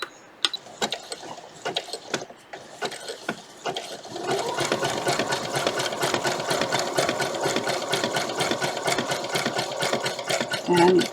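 A sewing machine zigzag-stitches lace onto vintage Sunbonnet Sue quilt blocks, a rapid mechanical clatter that starts in short bursts and then runs steadily and close for several seconds.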